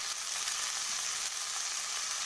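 Diced potatoes hitting hot oil in a frying pan, a bright, steady hiss of sizzling close up with faint stirring crackles, continuous and alone.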